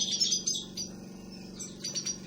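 A finch chick, a hand-reared fringillid, gives high, thin repeated chirps in short bursts over a steady low hum, close by and with no talking.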